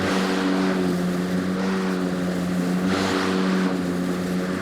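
Ego lawn mower mowing shady lawn grass, a steady close motor hum with blade whir and slight load changes, continuous and fairly loud, no talking.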